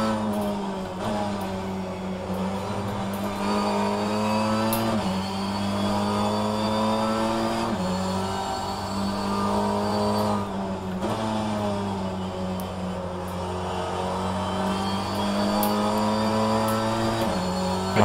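An Infiniti Q50 BTCC touring car engine in the rFactor 2 racing game at Brands Hatch revs loudly and continuously, climbing through gears with repeated upshifts and steady high-pitched engine whine.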